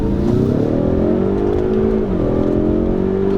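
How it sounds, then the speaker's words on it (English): A 2018 Ford Mustang EcoBoost with the performance pack accelerates hard, its engine droning loud and close as the pitch climbs steadily, drops briefly at a gear change, then rises again. "Gonna go ahead and give one more pull."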